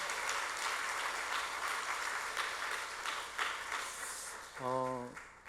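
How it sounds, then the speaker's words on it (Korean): Church members in a Korean service applaud a women's mission group, a steady, moderately soft wash of clapping across the hall, with a brief voice or tonal sound near the end. "우리 박수 한번 해주시겠습니다"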